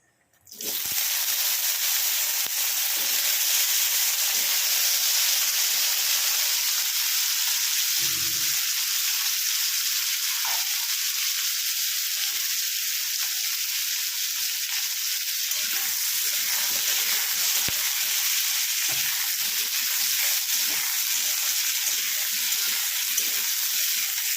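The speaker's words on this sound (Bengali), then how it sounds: "এবার এই আলুগুলো দিয়ে দেবো।" Potatoes drop into hot oil seasoned with cumin in a pan for pumpkin curry, setting off a loud, steady sizzle that holds evenly throughout, with a few faint clinks of stirring.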